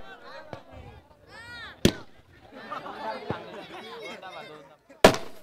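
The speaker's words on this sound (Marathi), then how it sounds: "फटाके जरा लांब लावा" Firecrackers go off at a village cricket tournament on the Gavdevi ground in Kanpoli, with two sharp, loud bangs spaced a few seconds apart over steady commentary and crowd voices.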